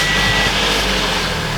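Steady, loud engine drone from a car running after its oil was primed, a continuous broadband hum with deep low rumble and no pauses.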